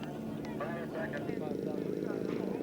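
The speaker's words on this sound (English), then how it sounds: "Carl Hibbs taxiing out" A scale model aircraft engine buzzes steadily while the plane taxis out at an outdoor scale aircraft show, a continuous droning hum heard at moderate distance with wind noise and voices talking over it.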